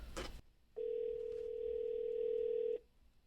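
Steady telephone dial tone played through an EC Technology Bluetooth speaker, a sustained even hum lasting about two seconds after a short burst of noise, heard alone.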